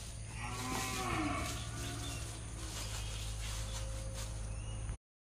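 Calves tied up on a farm moo and bellow loudly in drawn-out calls, with a steady hum of insects and occasional birds in the background and no talking.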